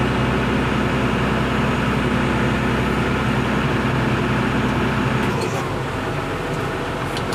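A tractor creeps along in a low gear at about 1350 rpm, its engine a loud, steady droning rumble that runs unbroken throughout, with a slight change in tone near the end.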